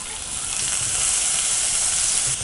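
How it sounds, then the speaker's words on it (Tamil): Steady, close sizzling of chopped onion and garlic frying in hot oil, a continuous crackling hiss with no voices. "வெங்காயம் பூண்டு நல்லா வதக்கிக்கலாம்."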